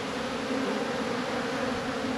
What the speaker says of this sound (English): the robbing bees are really just trying to get into the colony at every possible angle